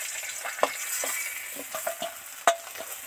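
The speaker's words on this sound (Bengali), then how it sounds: "কড়াতে শুকনো লঙ্কা তেজপাতা দিয়ে দিয়েছি" Dried red chillies and bay leaves sizzle in hot oil in a kadai for a Bengali katla fish curry, a steady broadband frying hiss with a few sharp spatters and utensil clinks, close and alone.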